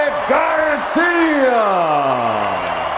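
Boxing arena crowd roaring after Mario Barrios is knocked to the canvas, a loud sustained wall of cheers and whoops with rising and falling yells throughout.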